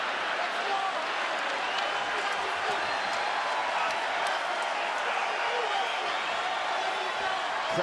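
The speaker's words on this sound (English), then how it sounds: "Crowd getting behind these athletes here in the waning seconds of this one." Crowd cheering and applauding during the closing seconds of an MMA fight between Anthony Pettis and Jim Miller, a steady wash of arena noise with a commentator talking over it.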